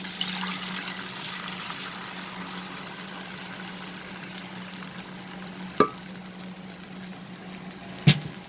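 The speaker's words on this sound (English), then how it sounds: "add this cooked dal" Cooked dal goes into a pan for raw mango dal, giving a continuous soft sizzle and liquid bubbling with a low steady hum, punctuated by two sharp clinks of a utensil on the pan.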